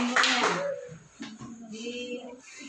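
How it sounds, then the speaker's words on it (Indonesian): Classroom applause from a group of students, a burst of clapping that fades, with a teacher's voice speaking over it. "tepuk tangan semuanya"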